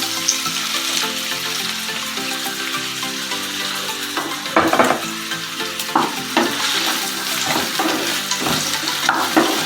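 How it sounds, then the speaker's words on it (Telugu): Onions sizzle in hot oil in a kadai, a loud, close, continuous hiss punctuated by several sharper stirring scrapes and spatters in the second half. "ఆయిల్ వేడయ్యాక ఆనియన్స్ వేయాలి"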